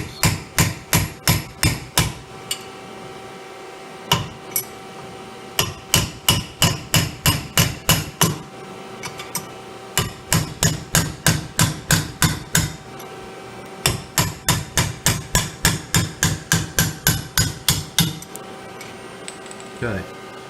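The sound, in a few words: hammering a punch to drive out RZR suspension bushings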